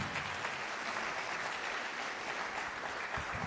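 A live audience at a celebration-of-life event applauds continuously, a dense steady wash of clapping heard from a distance at low volume.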